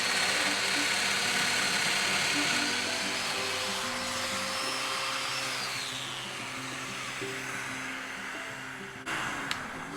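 Festool Domino joiner plunge-cutting a mortise for a drawer tenon, a steady loud motor whine and cutter buzz running throughout, pitch dropping slightly midway, with a short knock near the end.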